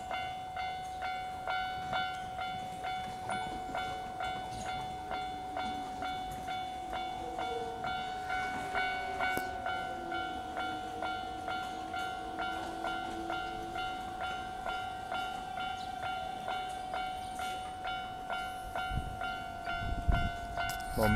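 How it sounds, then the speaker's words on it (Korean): A Keisei commuter train pulls into Keisei Tateishi station in Katsushika, Tokyo, with a steady electric motor whine and regular rhythmic wheel clacks over the rails, close by, ending with a heavier thump and rumble as it nears. "전철이 들어오고 있습니다."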